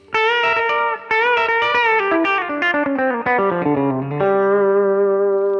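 A distorted electric guitar plays a country lick: a bent note, then a chromatic walk-down in short steps, ending on a sustained low note, loud and close.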